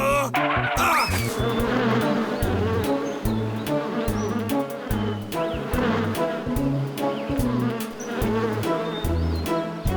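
Cartoon bees give off a loud, continuous swarm of buzzing that holds steady through the whole stretch, with rhythmic low tones pulsing underneath and no talking.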